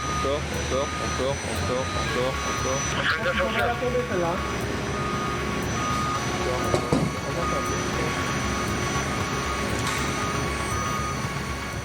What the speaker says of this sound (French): sinon l'avion, le rafale part assez rapidement